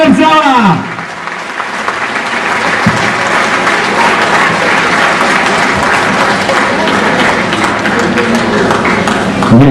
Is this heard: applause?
yes